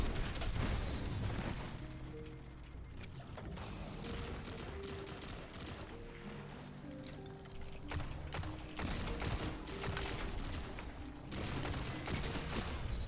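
Loud, dense bursts of heavy hand cannon gunfire from a video game crack repeatedly over a continuous roar of game action and explosions.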